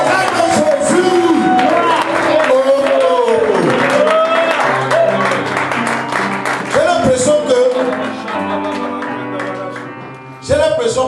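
Church congregation applauding and shouting acclamations to Jesus, a loud mix of clapping, whoops and raised voices that swells, dips briefly, then bursts up again near the end.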